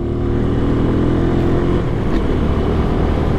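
A vehicle engine with a slipping clutch drones steadily and loudly from close by, a constant low rumble with no change in pitch and no speech.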